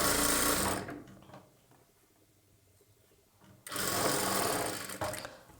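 A sewing machine stitches a blouse in two short, close bursts of fast whirring chatter, separated by a quieter stretch of faint handling sounds.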